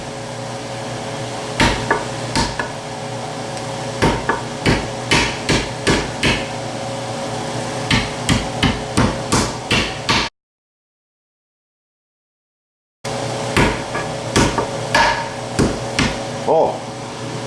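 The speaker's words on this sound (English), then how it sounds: "for this particular pork, we're going to be pounding it out" The side of a hammer pounds out pork in a kitchen, a series of sharp, loud thuds in uneven bursts over a steady appliance hum, with a short silent gap before more strikes.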